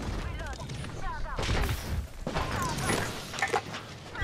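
Rapid bursts of gunfire from a firefight in the Apex Legends battle royale game, with several clusters of shots and crashing impacts at mid distance, mixed under game effects and some talk.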